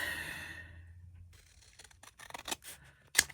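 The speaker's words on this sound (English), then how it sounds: "I'm going to freehand cut it right there." Scissors cutting freehand through card stock for a coin envelope journal, a series of quiet crisp snips and slides, ending in one sharper close snip.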